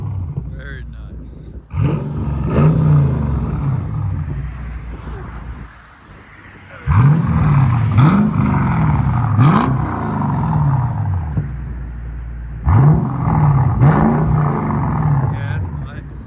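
A straight-piped luxury V8 car engine revs hard in three loud bursts, each climbing and falling, with a steady rumbling idle between them and a brief dip near the start.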